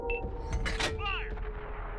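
Tank cannon in a video game firing once with a sharp boom and crackling blast tail, over a steady engine hum with brief game tones, amid combat chatter.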